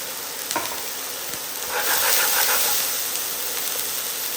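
Onions frying in hot olive oil in a pan, a steady close sizzle with a brief louder burst midway and a few light utensil taps.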